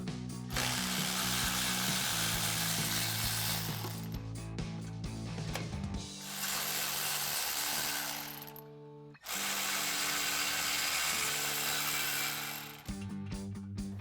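A hand ratchet with a 14mm socket backing out bumper mount bolts on a Toyota 4Runner, rapid clicking in several bursts separated by brief pauses, close and fairly quiet.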